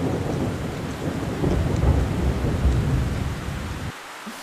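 Heavy rain pours steadily in an animated fairy-tale scene, with rolling rumbles of thunder swelling through the middle before the downpour drops away abruptly near the end; no voices are heard.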